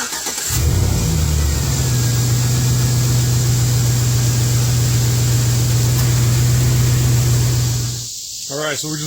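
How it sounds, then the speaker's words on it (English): A 2007 Chevy Silverado engine cranks and starts after an oil change, then idles steadily with a low, even hum for several seconds before shutting off, followed by a voice. "we just let the engine run for about a minute or two and shut it off"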